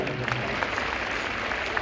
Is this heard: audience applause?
yes